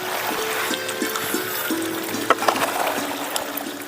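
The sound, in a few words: irrigation water flowing in farm channel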